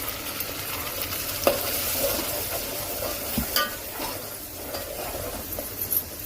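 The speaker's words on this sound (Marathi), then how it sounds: "कांदा लाल होईपर्यंत परतून घेऊ. आता घालू त्याच्यात मसाला करून घेतलेला," Onions and masala frying and being stirred in a pan for a Kolhapuri-style chicken curry, a steady close sizzle with scraping strokes of a spatula and an occasional clink.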